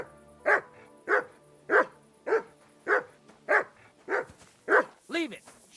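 A dog in Kingdom Come Deliverance II barks about ten times at a steady, evenly spaced rhythm, loud and close, the last bark breaking into a higher yelping whine.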